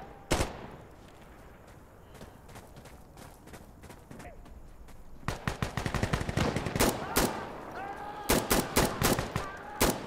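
Gunfire in the video game Insurgency Sandstorm: one loud shot opens, then sparse distant pops, followed by rapid close bursts of automatic fire in quick clusters.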